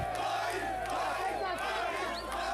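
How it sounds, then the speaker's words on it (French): Crowd in Lubumbashi giving an ovation with shouts of joy and chanting, a dense sustained roar of many voices that is loud and continuous throughout. "Ovation et cri de joie, le nom de Moïse Katumbi a été scandé toute la soirée au cercle épique de Lubumbashi"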